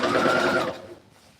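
A sewing machine runs a short burst of stitching on a bubu dress, a close, buzzy whir lasting under a second before it stops.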